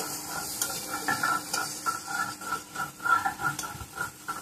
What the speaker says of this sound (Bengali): আলুগুলো মোটামুটি ভাজা হয়ে গেছে